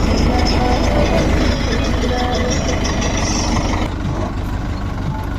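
A tractor engine hauling straw along a narrow village road, its loud steady diesel rumble droning continuously and close by, easing off slightly near the end.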